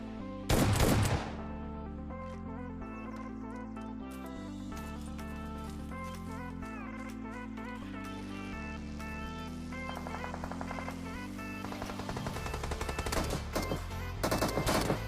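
Rapid gunfire in the mobile battle royale game PUBG Mobile, with a loud opening burst and then continuous fast-repeating shots over a droning music bed, growing denser again near the end.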